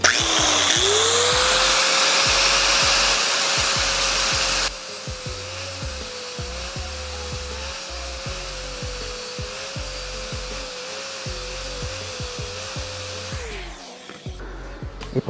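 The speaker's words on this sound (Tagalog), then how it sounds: "Grind ko lang itong shift drum natin." A grinder works on the shift drum from a 1995 Yamaha DT125 enduro gearbox, a loud, steady whine that drops in level partway through, then winds down near the end.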